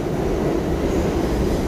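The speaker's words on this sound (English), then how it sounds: "okay, so I'm on a train, right?" Interior of a moving local commuter train, with a steady, loud rumble of wheels on track and a continuous low drone, and no speech.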